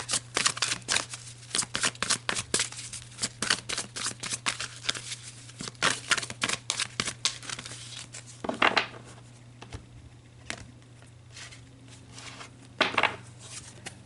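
Tarot cards shuffled and drawn by hand: a steady run of crisp riffling and flicking snaps for most of the stretch, easing into quieter slides with a couple of louder shuffles near the end, close and clear over a low steady hum.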